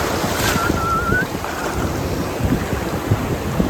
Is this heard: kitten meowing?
no